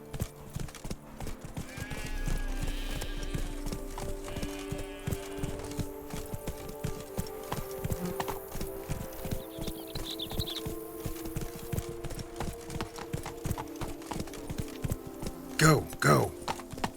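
Roach the horse's hooves clip-clopping in a steady rhythm in The Witcher 3, close and clear, with occasional voices talking over the hoofbeats.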